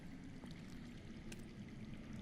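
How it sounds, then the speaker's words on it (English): Faint, steady flow of underground water in the Game of Thrones video game, a soft continuous trickling rush heard from some distance, alone with no voices. "I hear water. From underground."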